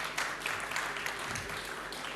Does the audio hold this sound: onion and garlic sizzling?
no